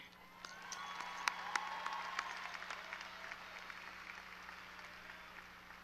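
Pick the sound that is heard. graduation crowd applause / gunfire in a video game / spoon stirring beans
graduation crowd applause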